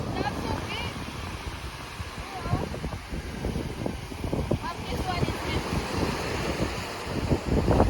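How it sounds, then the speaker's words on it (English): Strong wind buffets the microphone with a steady, gusting roar at Subic Bay, with a faint wash of surf beneath and no clear voices. "it is so windy out here, you might not be able to hear a word I'm saying"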